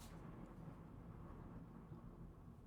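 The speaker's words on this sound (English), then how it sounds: "thunder." Thunder rolls as a faint, distant low rumble, holding steady and unbroken throughout, with nothing else audible over it.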